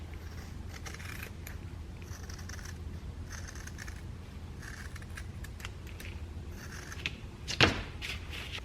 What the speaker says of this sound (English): I'm going to just cut it with some scissors.